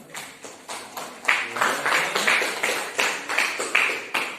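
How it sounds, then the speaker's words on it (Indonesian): A classroom group claps in a steady rhythm, the hand claps growing louder after the first second and continuing evenly, with little talk over them. "Tepuk tangan dulu untuk kelompok 2."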